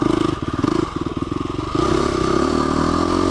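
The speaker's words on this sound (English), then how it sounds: "this bike's suspension is not ready to roll" A dirt bike with unready, squirrely suspension engine-thumps over rough, damp ground in a close, loud, pulsing run that swells into a steadier roar partway through.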